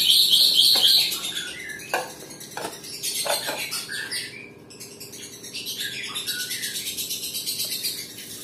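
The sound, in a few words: lovebird calling after separation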